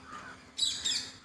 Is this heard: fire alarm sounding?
no